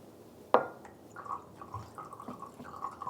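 Rice cooking wine being poured into a soy-based sauce, heard as a sharp close splash followed by soft trickling and dripping that fades to light, irregular drips.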